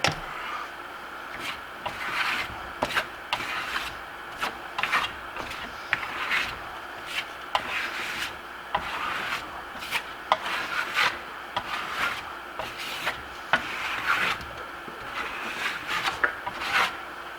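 Steel trowel rubbing a thin, tight coat of bi-colored Venetian plaster onto a wall, a steady raspy scraping in repeated short strokes, close and fairly loud with no talking.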